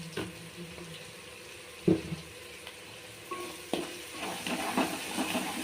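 Masala for fish curry fries in a pan with a soft, steady sizzle, broken by a few sharp scrapes and knocks of a stirring spoon.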